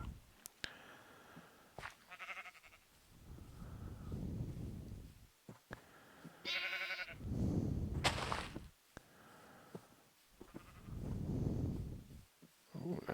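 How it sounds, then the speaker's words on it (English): Sheep in the video game Minecraft bleat several times at a moderate distance, drawn-out wavering bleats between game footsteps and clicks, with a little talk here and there. "Brown sheep. I don't know if we've seen a brown sheep before in this world."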